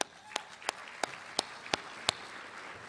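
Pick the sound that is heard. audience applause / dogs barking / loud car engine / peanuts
audience applause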